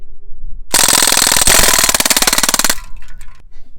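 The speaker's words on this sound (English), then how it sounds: "I mean, yeah, it's fully automatic, but it's just a BB gun." A Crosman DPMS SBR full-auto BB gun fires one loud, rapid rattling burst lasting about two seconds, followed by a few faint trailing clicks.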